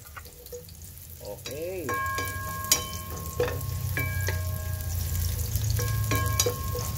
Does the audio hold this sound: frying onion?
yes